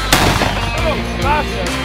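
A .308 AR-style rifle shot sets off a Tannerite exploding target outdoors, giving a sharp, loud blast with a booming tail, followed by a second crack and faint voices in the background.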